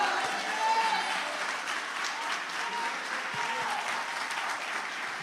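A church congregation claps together in sustained, dense applause that holds steady for several seconds without a break.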